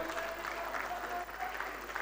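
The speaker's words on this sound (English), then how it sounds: "Another round of applause to the Vice President." Brief round of audience applause for the Vice President at a foundation awards ceremony, soft steady clapping heard at a distance in a large hall.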